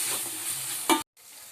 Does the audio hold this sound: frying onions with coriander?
yes